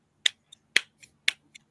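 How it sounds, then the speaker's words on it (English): A short hand-clapped beat played by one person up close, about six sharp claps in a steady rhythm that alternates loud and soft accents, with nothing else heard. "Can you give me a little beat with a clap?"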